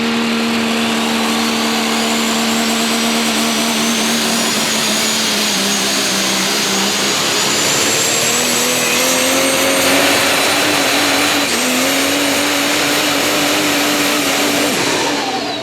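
A super stock diesel pickup truck roars at full throttle in a truck pull competition, a loud, continuous, strained engine drone with rising pitch and turbo whine, steady and close throughout with no talk.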